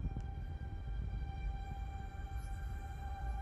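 A train ride in the video game Master Detective Archives: Rain Code: a low, steady rumble of the moving carriage with faint sustained electrical hum tones above it, no talking.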